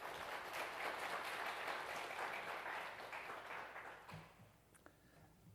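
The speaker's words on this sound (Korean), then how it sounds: "우리 큰 박수로 맞이하겠습니다." A church congregation at a Sunday worship service claps to welcome a missionary speaker, dense applause that holds for about four seconds, then fades to a few scattered claps and room noise.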